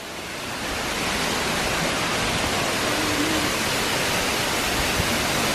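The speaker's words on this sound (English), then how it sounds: "This is what they call the falling bridge waterfall." Falling Edge waterfall in Jamaica gives a steady, dense roar of rushing water, broad and constant from start to finish with no voices over it.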